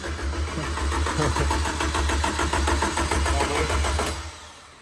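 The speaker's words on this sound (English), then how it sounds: "Well, the starter motor works." A rebuilt race car engine's starter motor cranks in a steady, rapid rhythmic whir with a low hum underneath, close and loud for about four seconds before fading out.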